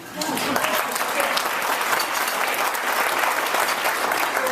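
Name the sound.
luncheon audience applauding as Edmonton Oilers fans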